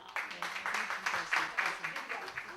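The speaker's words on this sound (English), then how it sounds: "give her a good round of applause, Miss Mary Kavanaugh." Audience applause at a Breast Cancer Awareness Pink Day event at Darlene Manor: fairly faint, pulsing clapping that swells and dips across the room, with no talk over it.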